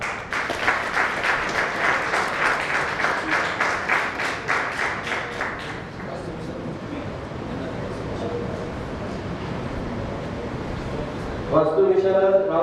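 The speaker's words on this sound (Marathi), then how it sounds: "टाळ्या वाजवत राहा." Meeting audience clapping steadily in a rhythmic burst, then a looser crowd patter, with a louder clatter of claps near the end; voices mix in underneath.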